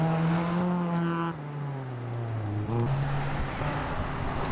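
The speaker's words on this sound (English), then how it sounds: "This is a little Hyundai" A small Hyundai rally car runs a rally sprint stage, its engine droning steadily with pitch slides as it shifts and passes, heard from trackside amid wind and background noise, with no talk.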